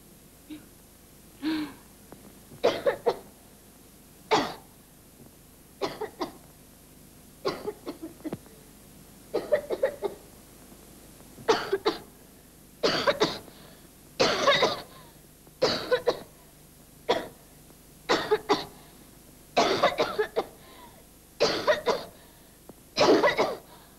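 Repeated coughing fits from a person, about a dozen harsh bursts spaced a second or two apart, close and clear against a quiet background.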